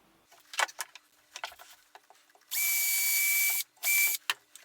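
A power drill boring into a semi-hollow Flying V guitar body, with two bursts of high whine, the first longer and the second shorter, between scattered clicks and handling taps in a quiet workshop.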